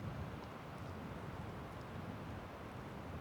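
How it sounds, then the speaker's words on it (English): Wind gusting outdoors along a climbing road route, a faint, steady low rumble buffeting the microphone with no voices. "Yeah, it's pretty windy"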